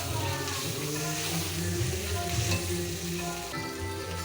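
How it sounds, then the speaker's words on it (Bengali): Spices fry in a pan for ghugni, a Bengali dried-pea dish, a steady close sizzle and crackle with faint stirring throughout, without voices. "সকালের জন্য টিফিনের জন্য ঘুগনি রান্না করছি। মশলা কষে নিচ্ছি।"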